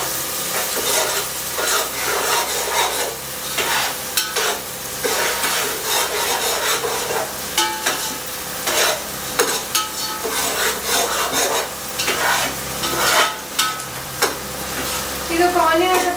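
Green chillies sizzle in hot oil in a pan while being stirred, with continuous crackling frying and repeated scraping strokes of a spoon close up, and a little background talk.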